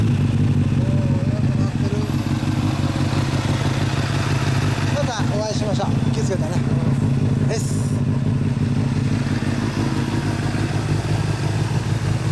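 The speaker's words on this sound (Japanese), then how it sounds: "エンジン音聞かせてもらえますか" A 2007 Honda CBR600RR (PC40) sport bike with a Devil aftermarket exhaust idles close by, a loud steady throbbing engine note held throughout, with a brief rise in revs midway and faint voices in the background.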